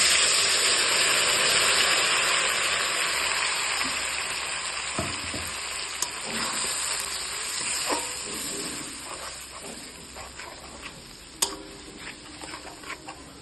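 Ground spice paste for a pomfret fish curry hits onions already fried over a high flame, giving a loud, steady, close sizzle with a hissing wash and a few scattered utensil clatters that ease off slightly toward the end.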